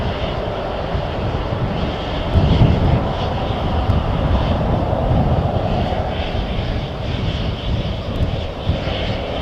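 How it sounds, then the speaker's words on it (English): Airliner engines spool up for departure from runway 36L at Amsterdam Schiphol Airport, a steady close roar that swells slightly and holds throughout with no talking. "Very quiet planes. Even though they spool up right next to you"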